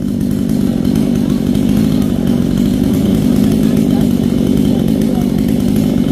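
A chainsaw runs steadily and loudly at close range while cutting a coconut palm that stands right against a wall, its engine drone unbroken throughout with no pauses.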